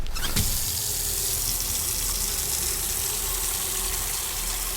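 Tap water runs steadily into a container in the Autopsy Simulator video game, a continuous close gushing hiss that starts with a brief splash and keeps flowing without a break.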